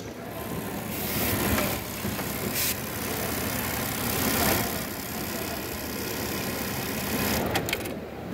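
Automatic elastic-making garment machine running in a factory, with a steady close mechanical whir and rattle that swells and eases a little while faint voices talk nearby.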